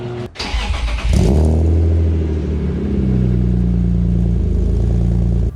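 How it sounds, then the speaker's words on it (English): BMW E36 M3 engine and exhaust being rebuilt in a shop, starting with a brief crank and then settling into a loud, deep, steady idle rumble that rises slightly midway and holds close to the microphone. "This exhaust sounds so good."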